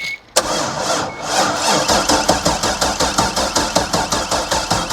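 Indmar 5.7 boat engine cranking on a low battery, a rhythmic, labored starter chug repeating steadily after an initial click, loud and close without catching, no speech.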